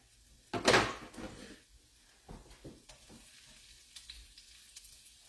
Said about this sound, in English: I'm going to throw that on the pan.